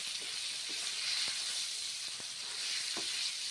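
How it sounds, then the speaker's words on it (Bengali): Pointed gourd (potol) pieces frying in hot oil in a pan, a steady loud sizzle and hiss throughout with a few faint clicks of stirring, no talking. "পটলগুলো ভেজে নিচ্ছি"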